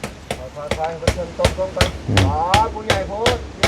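Wall boards are hammered onto a wooden house, a series of about ten sharp, evenly spaced strikes at close range, with someone talking over the blows.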